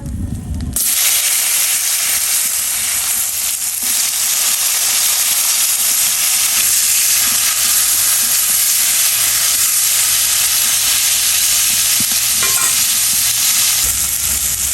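Onion and chili sizzle steadily in a hot frying pan, a loud continuous hiss that starts after a brief quiet moment, with faint stirring scrapes underneath.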